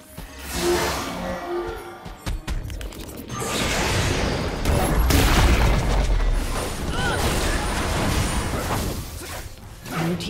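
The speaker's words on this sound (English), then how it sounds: "Blue team's turret has been destroyed." A turret being destroyed in League of Legends, heavy booming crashes and whooshing debris rumbling loudly for several seconds amid busy game effects, after a quieter opening with sharp mechanical clicks.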